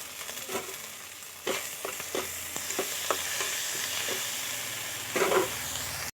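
Ginger and green chilli paste being sautéed with salt in a pan for a vegetarian dish, a steady sizzle and hiss broken by repeated scraping stir strokes, with a louder burst of frying near the end.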